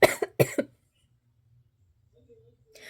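Two quick, sharp coughs close to the mic, then near silence with a faint voice starting at the end.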